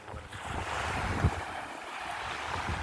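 Sea waves wash steadily onto a beach during Cyclone Fengal, a continuous broadband surf roar with heavy wind buffeting the microphone and no voices.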